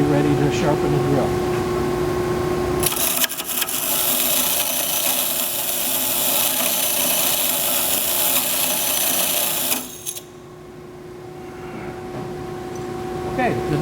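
A wheel dresser flattening the face of a bench grinding wheel before drill sharpening: a loud, harsh, continuous grinding roar starts after a few seconds of motor hum, runs for about seven seconds, then cuts back to the whirring wheel.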